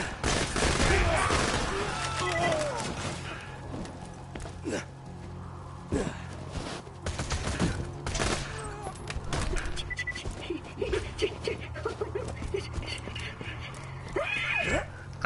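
Borderlands 2 gameplay gunfire: bursts of rapid shots and scattered single cracks, mixed with game effects and spoken voices throughout.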